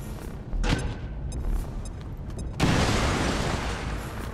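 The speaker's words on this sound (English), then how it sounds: "luckily Grenadier Nicholas can just hit him with another grenade" A grenade detonates in XCOM 2: War of the Chosen with a loud, close boom that rolls into a long noisy rumble, following a smaller burst moments earlier.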